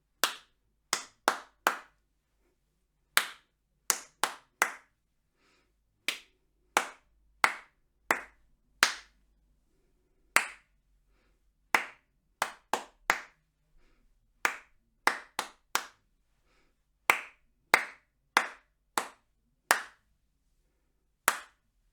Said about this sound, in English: say the tars and TTs on the inside, and we're going to clap together.